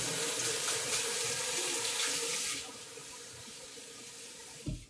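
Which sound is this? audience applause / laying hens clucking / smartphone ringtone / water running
water running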